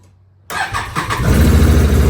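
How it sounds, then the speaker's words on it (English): A 2019 Can-Am Outlander 570 ATV engine cranks and catches after a half-second of near silence, then settles into a loud, steady running rumble with uneven pulses. "when you go to start it up, it sounds a bit better than what it did"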